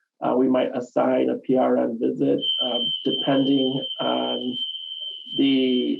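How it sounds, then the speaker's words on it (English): An office fire alarm sounds as a steady, shrill continuous tone, starting a few seconds in and continuing loudly beneath a person speaking throughout. "our fire alarms are going off in the office."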